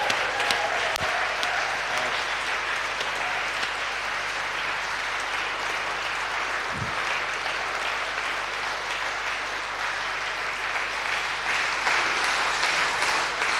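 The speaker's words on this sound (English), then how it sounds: "Should we give another round of applause to the Animo Ensemble?" Steady, sustained applause from a concert audience for a classical chamber ensemble playing Handel, Mozart and Bach on a summer evening, dense clapping filling the space throughout with no talk over it.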